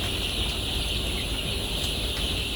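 Colour bird chicks about eight days old clucking and peeping in a poultry shed as they are caught, a busy chorus of small calls over a steady hum of background noise.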